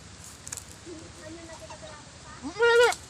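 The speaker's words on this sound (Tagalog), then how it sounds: "Lumabas na yung baby goat." A newborn baby goat gives a short, high, wavering bleat near the end, close by on a farm after its mother's birth, preceded by quieter animal sounds and background murmur.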